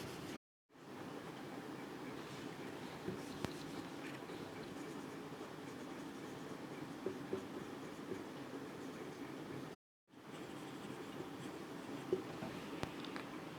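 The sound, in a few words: writing out a chemistry definition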